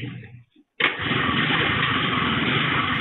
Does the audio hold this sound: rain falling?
no